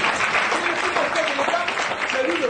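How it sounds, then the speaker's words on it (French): Audience applause for a construction minister at a public gathering, a dense, even wash of clapping with voices mixed in underneath. "On l'applaudit pour ça."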